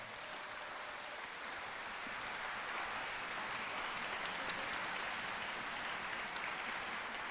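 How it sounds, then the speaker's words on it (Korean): Sustained audience applause following an orchestral concert of film music by a youth orchestra, a steady, even roar of many hands clapping throughout without breaks, moderately distant and filling the hall. "마음을 담아서 한 번 더 박수를 부탁드리겠습니다"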